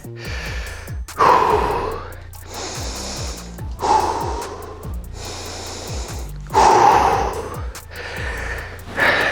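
Heavy breathing from someone recovering between sets of an outdoor bodyweight workout: deep, loud gasping inhales and exhales in a slow, uneven rhythm, close by, with no talk.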